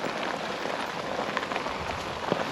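Steady rain falls on a forest trail in Savage River State Forest, Maryland, a dense continuous hiss of drops with no talking over it.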